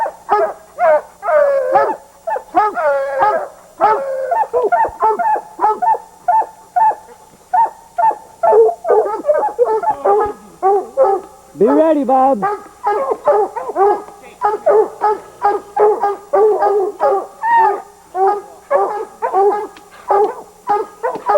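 Hunting hounds bay and bark nonstop at a bear treed during bear season, close and loud in rapid, overlapping bursts, while someone speaks briefly.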